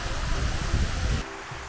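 Steady rushing water from a waterfall at a garden cafe, a broad even hiss that drops somewhat quieter partway through.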